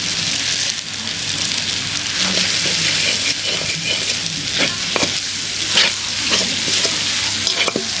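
Turmeric, cumin, coriander, dried chilli powder, salt, pepper and Kashmiri chilli powder sizzle in a kadai over a clay stove for village-style chicken curry, with a steady loud fry and repeated scraping stirs close up.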